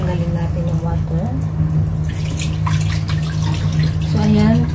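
Water pours and splashes as it drains off rinsed rice in a kitchen, a steady trickling wash heard under a voice talking throughout.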